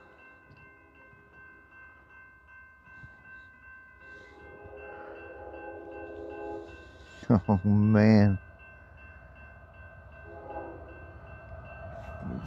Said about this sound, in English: Have I caught a train with the Redrock?